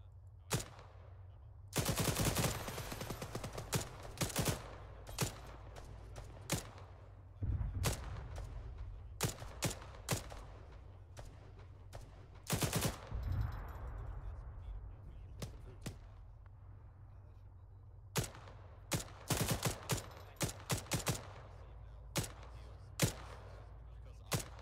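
Gunfire in an Arma 3 combined-arms operation: repeated bursts of machine-gun fire and single sharp shots, some close and loud, others quieter and more distant, spread across a low ambient rumble.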